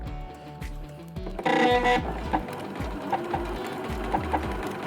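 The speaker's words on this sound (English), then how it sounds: "And now I'm sewing the side seams following the pins that I added when it was in the dress form." Sewing machine stitching the side seams of a dress made from a man's shirt, a steady close mechanical whir running throughout with brief louder bursts of speed and light clicks, no talking.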